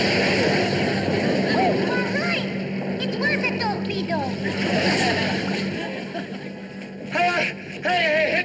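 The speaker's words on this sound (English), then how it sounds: "Stop that boat!" A motorboat engine drones steadily through a wartime comedy scene at sea, loud and continuous beneath shouting voices and splashing water.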